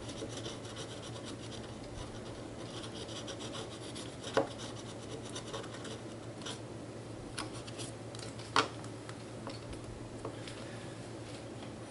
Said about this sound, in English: So it didn't take a terrible lot of sanding, but we really did smooth it down.